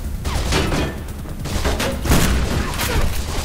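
Shotgun blasts and surrounding gunfire in the video game Mirror's Edge, several heavy booming shots spread unevenly over a few seconds amid dense, noisy combat ambience.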